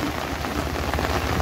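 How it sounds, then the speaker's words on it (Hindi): Heavy monsoon rain pours steadily on the Matheran ghat road, a dense, even hiss of drops hitting surfaces all around, with no voices. "बारिश तो हो रही झन्नाटेदार।"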